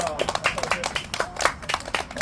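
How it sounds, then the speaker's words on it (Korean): Children's futsal team clapping in celebration after winning a youth tournament final, a quick uneven run of hand claps mixed with voices close by. "자 우승했으니까 박수 크게"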